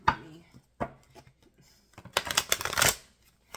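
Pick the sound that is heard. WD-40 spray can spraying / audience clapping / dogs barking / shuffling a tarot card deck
shuffling a tarot card deck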